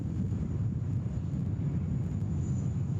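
Far-off jet roar of a departing Qantas Boeing 787 at Sydney Airport, a steady low rumble heavily mixed with wind buffeting the microphone.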